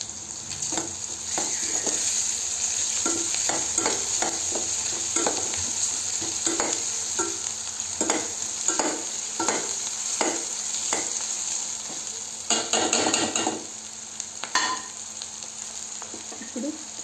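Ginger garlic paste for a fish curry fries in hot oil with a steady bright sizzle, while a spoon scrapes and stirs in a regular rhythm of short strokes, close up and with no voices.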